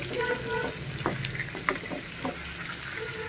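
Softened pork pata, previously cooked over charcoal, is sautéed in a pan with a crackling sizzle and scattered clatters and stirring knocks throughout.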